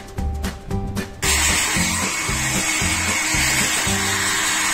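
A hair dryer blows steadily and loudly near a Shih Tzu, a continuous airy whoosh that starts abruptly after a short stretch of broken noise, with low rhythmic thumps underneath.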